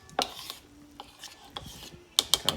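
Blueberries being gently folded into pancake batter with a utensil in a bowl, soft scraping and rubbing strokes with a few sharper clinks against the bowl toward the end, close and quiet.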